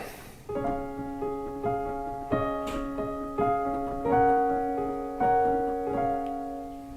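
Piano chords played at a steady, moderate pace, each struck chord ringing into the next, forming a gentle melodic phrase with no voices; the intro of a song.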